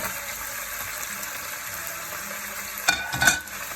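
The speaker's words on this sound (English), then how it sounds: "now we return all the salmon to the pot" Salmon pieces returned to a pot of coconut curry, a steady close sizzle and bubbling followed by a brief clatter and splash as the fish goes in, no speech.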